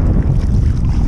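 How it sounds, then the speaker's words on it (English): Steady wind buffeting the microphone while kayaking on a rough sea off Marina Piccola beach, Capri, Italy, with a constant low rumble of gusts and water throughout, no voices. "It's a bit windy."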